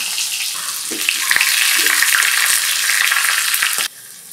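Whole dried red chillies hit a dal tempering of cumin, asafoetida and chopped green chillies, giving a loud, steady frying hiss with scattered crackles and a few sharp pops before the sizzle drops suddenly quieter near the end.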